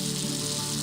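Stuffed green peppers fry open side down in oil in a nonstick pan, giving a steady, dense close-up sizzle with no pauses or voices.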